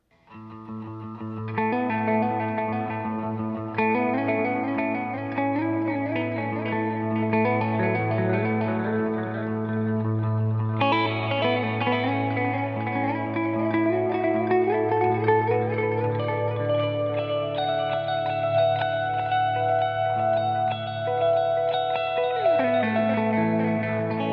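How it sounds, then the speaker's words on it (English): Electric guitar through stereo amps with a Boss RV6 reverb pedal, lush reverb and echo, sustained chords and bending notes blooming into a spacious, shimmering tail over a steady low drone. "I also added some reverb from the RV6 pedal from Boss"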